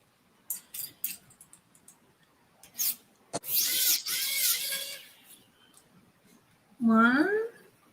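Screws being undone on a sewing machine, short scraping and rasping bursts of a screwdriver turning, close and quiet, separated by pauses, with a brief higher squeak near the end.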